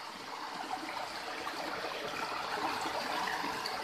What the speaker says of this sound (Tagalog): Maagos po yung tubig.